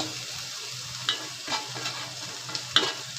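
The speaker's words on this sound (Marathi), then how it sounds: "हे चांगलं आपण परतून घेऊ" Onion, tomato, curry leaves and coriander sautéed in a pan, a steady sizzle with a few soft scraping stirs of the spatula, close and alone.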